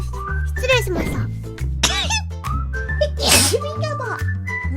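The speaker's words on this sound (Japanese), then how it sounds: "くしゃみ出そうって言って出ないのに出たわ" A single sharp sneeze bursts out amid lively speech, with background music playing steadily underneath throughout.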